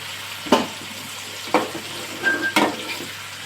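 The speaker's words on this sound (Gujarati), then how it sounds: "આ રીતે પછી આપણે હલાવી લેવાનું છે।" Three separate stirring strokes scrape through stuffed brinjal curry in a pan, each a short, close swish over a soft, constant sizzle, with quiet gaps between them and no voices.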